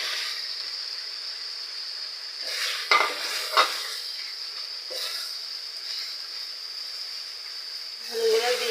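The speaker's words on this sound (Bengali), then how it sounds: "ভুঁড়িগুলো দিয়ে আমি এপিট ওপিট করে ভালোভাবে নেড়ে চেড়ে নেব।" Cow tripe is stirred and turned in spiced oil in a pan for a bhuna curry: a steady hissing sizzle carries through, punctuated by a couple of sharp clanks of the spatula against the metal pan.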